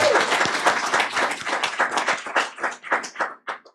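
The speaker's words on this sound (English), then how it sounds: "let's give another big round of applause to Miss Callie Bergan and Hillary Atkins" An audience at a school district board meeting applauds with dense clapping that slowly thins out into scattered individual claps.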